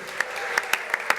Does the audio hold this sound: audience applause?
yes